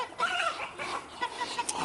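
Soft clucking from roosters, several short murmuring calls overlapping at moderate distance amid faint outdoor noise.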